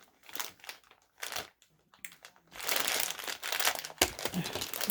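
A resealable plastic bag holding craft beads is handled and crinkled in bursts, with crackly rustling that swells loudly near the end, and no talk.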